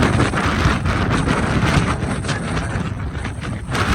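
Strong storm wind in Sialkot blows hard against the microphone, a loud continuous roaring rush with gusty surges and buffeting throughout, with no talk.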